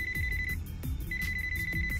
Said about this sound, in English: I don't know if that's my phone or her phone ringing currently in the game.